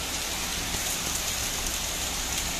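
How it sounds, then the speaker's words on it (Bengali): Heavy rain pours down steadily as a dense, unbroken hiss that stays loud and even throughout, with no voices. "এমন বৃষ্টির মধ্যে আমরা আজকে রয়েছি না, কি সুন্দর বৃষ্টি"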